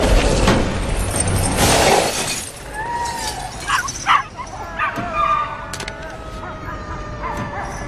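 A dog yips and barks in short bursts amid a loud crash of shattering glass, in a film action scene with other noise around it.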